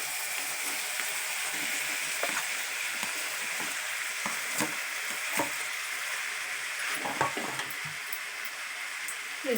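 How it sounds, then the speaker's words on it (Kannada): Onion and tomato tempering sizzles steadily in hot oil as it is stirred into a potato curry, a continuous frying hiss broken by irregular scraping and clicking strokes of a spoon against the pan, close and fairly loud with no talking. "ಈಗ ಎಲ್ಲ ಒಗ್ಗರಣೆ ಇದಕ್ಕೆ ಈಗ ಮಿಕ್ಸ್ ಮಾಡ್ಕೊತೀನಿ."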